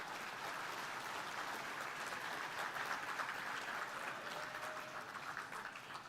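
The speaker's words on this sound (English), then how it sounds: "Give them a round of applause." Steady audience applause at a Texas Bankers Hall of Fame banquet as board members stand, a dense continuous patter of many hands from a roomful of people, moderately loud and unbroken throughout.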